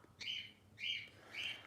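A pet bird, a male, chirps three times in a row, bright, high calls at an even pace, fairly faint and heard alone.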